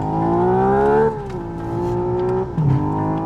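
Synthesized engine note from a Hyundai Ioniq 6 N electric car, loud and close, rising in pitch like revving, then dropping and holding steady before a brief shift near the end, with faint tire noise underneath.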